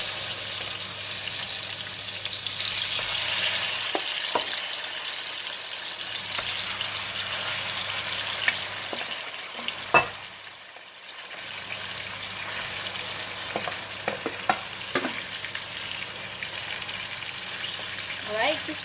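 Pork shoulder sizzles and fries in hot oil alongside softened shiitake mushrooms, a steady broad crackle throughout with a few sharp pops and clinks, briefly dipping quieter before the frying hiss resumes.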